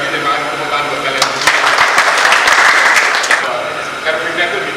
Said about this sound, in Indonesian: terima kasih tepuk tangan buat kalian